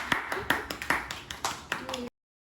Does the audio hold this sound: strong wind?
no